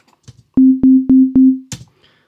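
Four evenly spaced synthesizer pulses on one pitch fire in a quick regular row, followed by a short noisy burst, clean and up close.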